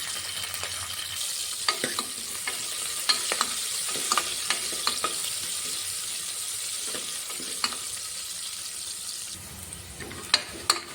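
Chopped onions fry in oil with cumin seeds and curry leaves for a tempering, a steady close sizzle broken by repeated spoon clinks and scrapes against the pan.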